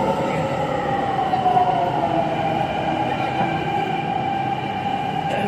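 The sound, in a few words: Delhi metro train arriving at Qutub Minar station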